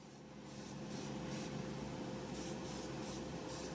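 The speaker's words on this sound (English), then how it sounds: "sprayed on the second and final coat of clear" An airbrush hisses continuously as it sprays clear coat onto an Aoshima Toyota Soarer JZZ30 Vertex model car body, a soft steady airy spray close by after a quiet start.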